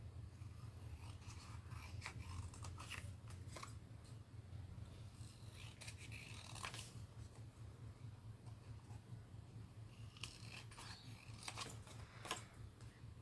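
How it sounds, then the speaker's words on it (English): Quiet, close snips of scissors trimming paper for a junk journal collage card, scattered irregular cuts over a low steady background hum. "I'm just going to trim that out a little bit more"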